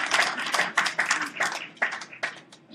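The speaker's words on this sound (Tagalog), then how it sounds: "May narinig ako isang pumalakpak." One person claps alone in a steady run of about a dozen sharp claps, fairly close, with no crowd joining in.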